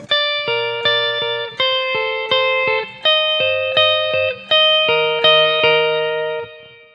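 Electric guitar phrases played through effects, each note ringing out with reverb that fills the short gaps between them; a series of sustained, shimmering phrases with no voices.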